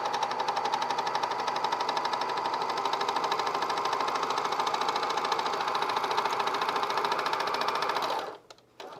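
A cover stitch sewing machine running fast on a fleece pullover, a steady close mechanical rattle with rapid even needle beats, continuing alone for several seconds before stopping abruptly near the end.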